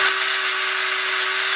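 Steady, even rotary whirring from a power tool polishing Glock 45 trigger parts, including the trigger bar and the plunger on top of the slide, running continuously with a constant tone and no talk.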